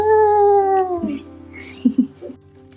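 A stray cat lets out a long, loud drawn-out meow that bends downward, followed by a few shorter, softer chirping mews close by.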